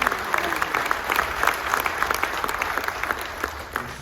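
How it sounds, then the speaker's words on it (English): A crowd aboard the cruise ship Carnival Magic applauds a veteran at a military appreciation gathering, with dense, steady clapping that holds at full strength throughout and has no voices over it. "A round of applause for joining us."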